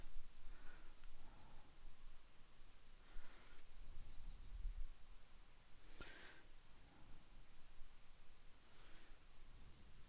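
Soft, steady scratch of a beige colouring pencil shading across paper, a faint continuous rasp with gentle strokes, close and quiet with no talk.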